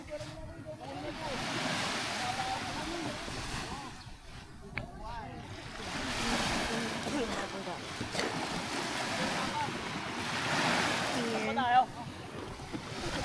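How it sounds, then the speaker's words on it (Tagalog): Ocean waves surge and wash in every few seconds, with wind noise and occasional low voices in the background. "Mas kalmado yung ano, yung alon kapag umaga."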